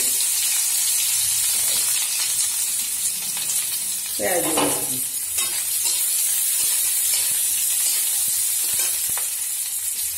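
Onion and garlic frying in hot oil with cumin seeds, a steady close sizzle with a louder surge of hissing as the onion goes in, then continued crackle and stirring.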